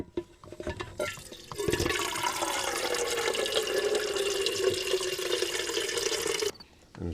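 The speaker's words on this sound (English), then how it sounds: "Suppose we better put a little water in it too" Water pours steadily into a coffee pot at a campsite, a continuous rushing, splashing stream lasting several seconds after a few knocks, then stopping abruptly.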